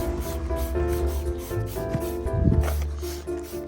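A few short sprays of iron fallout remover hiss close by on a 2010 Fiat Punto over a steady background hum, with a faint rubbing sound partway through.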